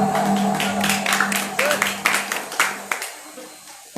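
Students in a classroom clapping for a classmate, a scattered, uneven patter of hands over background hum, fading toward the end.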